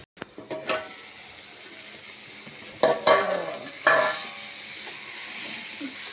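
A spoon stirs boiling Telangana-style dal with smashed tomatoes in a pot, giving several distinct scraping swirls over a soft, steady bubbling simmer.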